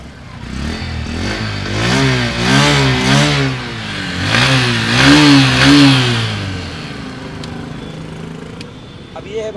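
A 2024 Bajaj Platina 100 Comfortec motorcycle on its double stand is kick-started close by, roaring to life and revved several times, its pitch rising and falling in repeated surges.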